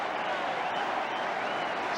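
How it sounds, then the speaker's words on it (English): A football crowd at Coventry City claps in a dense, even, distant wash of applause that stays steady for the whole moment. "Coventry deserving the applause they've been given."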